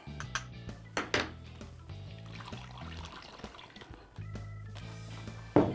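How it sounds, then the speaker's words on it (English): Marinade poured from a container over elk medallions in a zip-top bag, making a wet splashing pour with a few clinks and rustles at the start and a louder splash near the end, with no talking. "Then we're going to pour the marinade right over the top."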